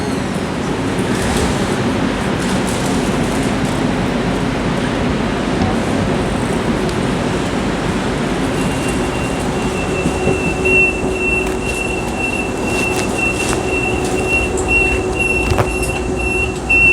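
A Calgary CTrain light rail train on the Red Line in downtown Calgary during a heavy June rain, rumbling steadily close by with a sustained high wheel squeal rising in the second half, no voices.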